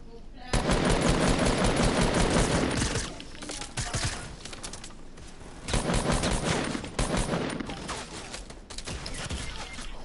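Rapid automatic gunfire in a building-and-shooting video game rattles in long, loud close bursts that pause and resume, with brief cracks of breaking structures between them.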